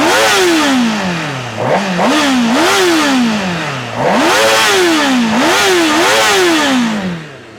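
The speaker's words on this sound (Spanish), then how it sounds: "Tenemos uno de los mejores sonidos del mundo. Me refiero al motor de las 1000 de Honda." A Honda CBR 1000 RR sport motorcycle engine revs loudly and close, its four-cylinder howl climbing and falling through several repeated throttle blips with no one talking.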